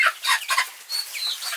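Chickens clucking and chirping in short bursts, fairly close, with a few higher calls toward the end.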